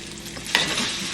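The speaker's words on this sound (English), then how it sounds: "So I'm gonna fry this onion like a saute first." Chopped onion sautéing in a frying pan for Cuban ropa vieja, a steady close sizzle with stirring scrapes and a brief louder stir partway through, no voices.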